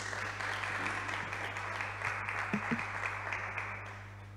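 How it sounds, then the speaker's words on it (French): Steady applause from an audience welcoming a speaker, a dense even patter of many hands clapping that holds throughout, with a few louder claps near the end. "Nous allons accueillir l'expert Morel sur vos acclamations"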